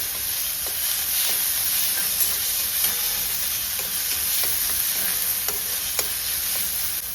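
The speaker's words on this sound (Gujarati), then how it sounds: "ટમેટા સરસ મજાનું આને પહેલાં થોડું ચડવા દેવાનું" Tomatoes with chilies and onions sizzling in a pan for puffed rice khichdi, a steady close hiss of frying broken by faint clicks of stirring, with no talk.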